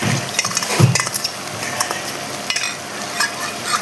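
Poppy seed and melon seed paste fries in spiced oil in a kadai, a close crackling sizzle mixed with scraping stirs and a few light clinks of a spatula against the pan, with no talking.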